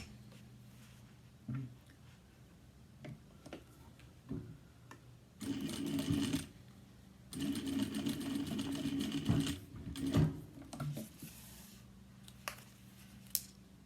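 A sewing machine stitches across the end of a zipper at a 3/8 inch seam allowance while making a cross-body bag, with two close bursts of steady whirring separated by soft ticks and handling noises, and no talk.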